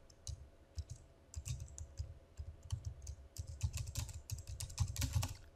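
Keys clatter in quick irregular bursts as an account name is typed on a computer keyboard, close and fairly quiet, with short pauses between clusters of clicks.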